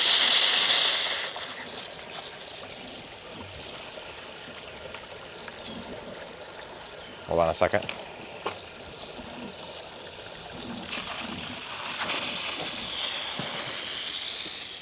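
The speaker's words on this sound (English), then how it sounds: "I'm actually back flushing one of the tanks right now." Water rushes and hisses steadily from a backflushing sand filter tank in a strawberry garden irrigation setup, with brief splashing bursts midway and a louder gush near the end, and someone speaks briefly over it.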